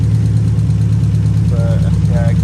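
A 1990s Nissan 300ZX with a misfire and a tick idles outdoors, a loud steady low rumble with an even pulsing beat, while a voice briefly cuts in near the end.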